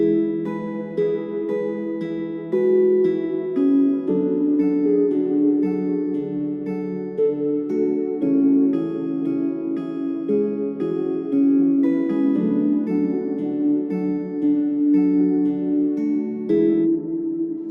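Mellow lo-fi piano chords play over a soft, steady beat, the warm music continuing at an even, moderate loudness without any voices.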